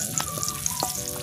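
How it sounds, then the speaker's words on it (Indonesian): Chili peppers frying in hot oil for sambal, a steady crackling sizzle with small pops throughout, close and continuous. "nah goreng"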